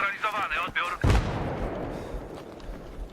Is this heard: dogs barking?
no